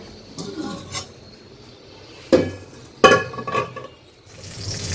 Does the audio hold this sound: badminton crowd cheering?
no